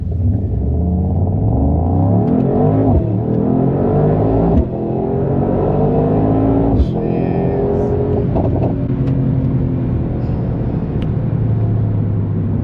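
2025 Mercedes-AMG GT 63 Coupe accelerating hard, a loud steady engine rumble climbing through gears with shift breaks, heard from inside the car with no talk.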